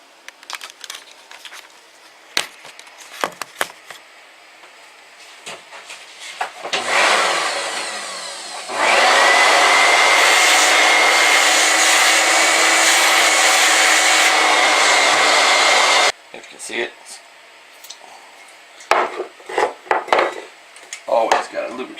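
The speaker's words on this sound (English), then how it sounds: "So I'm going to suck up these shavings" A shop vacuum is switched on near a sailboat's Atomic 4 engine and sucks up metal drilling shavings from a cleaned-out hole, a loud steady roar lasting several seconds between sharp clicks, clatter and handling noises.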